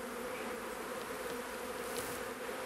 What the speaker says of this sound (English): It's interesting when you start playing around with bees and the fact they can fly